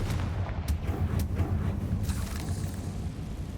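A Confringo blasting spell goes off in a wizard video game, giving a deep, rumbling booming blast with crackling bursts that roll on for several seconds at moderate loudness.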